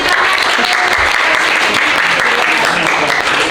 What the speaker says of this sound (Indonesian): Tepuk tangannya untuk Dendi.